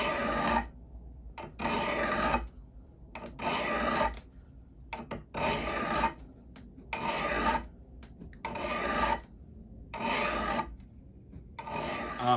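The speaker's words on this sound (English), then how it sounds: "file that edge back" A metal Grobet file rasps along the edge of a Gransfors Bruk axe in steady back-and-forth strokes, about seven long passes, close and clear with no talking.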